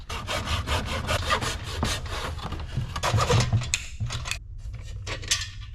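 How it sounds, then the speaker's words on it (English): A small hand hacksaw cuts off a part on a 1986 Chevy C10 squarebody pickup, with close, loud, rapid back-and-forth strokes that run steadily, briefly slow and stutter, then trail off near the end. "I'm just gonna go ahead and hack these off with the little hacksaw."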